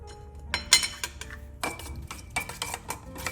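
Salmon and mushroom pieces being mixed in a dish with fresh parsley and garlic for a home-baked meal, giving irregular clinks and scrapes of utensils against the dish, with a few sharper knocks, close by and fairly quiet.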